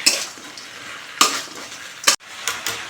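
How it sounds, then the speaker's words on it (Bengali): Fried chilli chicken pieces are stirred and tossed in a pan, with a few sharp spoon scrapes and clatters against the metal over a low, continuous frying sizzle, heard close with no talking. "এবারে ভেজে রাখা চিকেনগুলো দিয়ে দেবো, এগুলো ভালো করে মিক্স করে নেব।"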